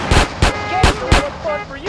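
Four loud, close gunshots ring out in Grand Theft Auto San Andreas during highway chaos, spaced about a third of a second apart, with a shouting voice in between.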